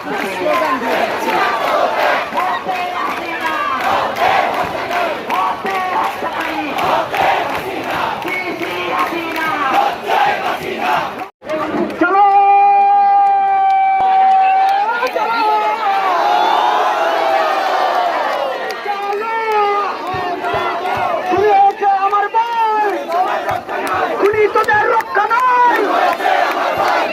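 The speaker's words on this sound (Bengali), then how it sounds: "স্লোগান দিয়ে যাচ্ছে।" A large crowd of protesters at the Shaheed Minar chanting slogans for a one-point demand, loud rhythmic massed voices led in call-and-response, continuing almost without pause.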